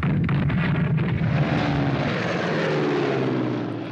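A WWII fighter plane engine in the Strategic Command WWII strategy game roars loudly and continuously, a dense propeller drone that holds steady for a few seconds, heard alone without talk.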